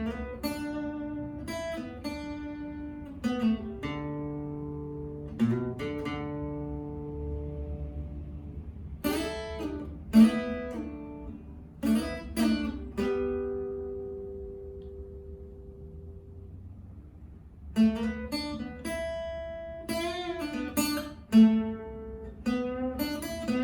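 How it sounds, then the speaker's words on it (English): Rhythm guitar part of a song played alone, with plucked and strummed chords ringing out in clustered bursts separated by sustained decays and short pauses, clear and close. "the rhythm guitar sounds like this"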